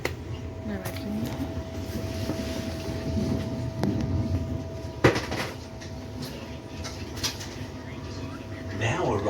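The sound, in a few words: metro train moving, heard from inside the carriage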